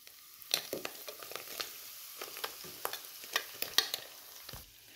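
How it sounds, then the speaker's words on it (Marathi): Green masala for a salty brinjal curry fries in oil over a low flame, giving a soft, steady sizzle under frequent light stirring scrapes and taps throughout. "आता आपण मंद आचेवरती थोडंसं फ्राय करून घेणार मसाला"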